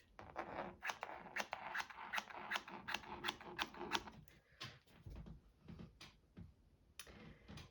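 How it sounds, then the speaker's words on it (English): Scissors snip repeatedly around a paper shape, steady crisp cuts in a regular rhythm, close and fairly quiet, with no one talking. "we are going to cut around here-ish"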